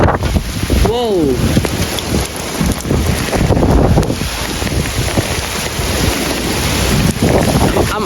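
Very strong, gusting winds of a severe thunderstorm in New Jersey roar and buffet the microphone continuously and loudly, with rain and a brief human exclamation near the start.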